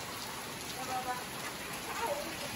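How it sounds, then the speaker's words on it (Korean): A sudden heavy rain shower pours down over a yard, a soft, continuous hiss of falling water that stays fairly faint and even throughout. "막 소나기가 쏟아지는구나"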